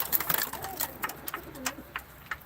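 Pigeons at a game-bird auction in Ankara give soft, faint coos and scattered calls over a low room hum, short bursts spaced irregularly.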